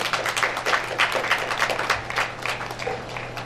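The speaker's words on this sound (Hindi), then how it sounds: "एक बार जोरदार ताली बजनी चाहिए" Audience applause at an annual function's award ceremony, a burst of scattered hand clapping from a crowd that swells, fades slightly and carries on for several seconds.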